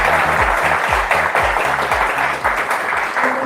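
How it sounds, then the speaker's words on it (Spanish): Audience applause greets an actress as she is introduced at a press conversation event held by the National Army, a steady, loud wash of clapping over a low music bed, with no talk over it. "María Cecilia Botero Cadavid, para quien pedimos un fuerte aplauso."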